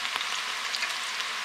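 Green beans frying in hot oil, a steady broadband sizzle with small crackles and pops throughout, close and fairly loud with no voices.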